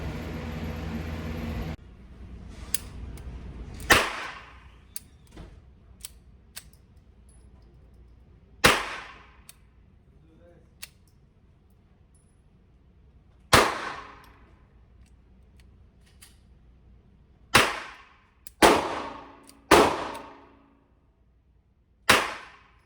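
A suppressed Walther TPH .22 pistol fires about seven sharp, muffled shots at irregular intervals, several coming close together near the end, with small clicks between them in an otherwise quiet setting.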